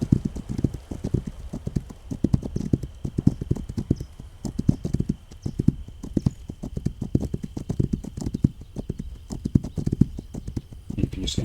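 Horse hooves clip-clop steadily in the video game This Land Is My Land as the horse auto-travels, a continuous rhythmic trotting with faint game ambience.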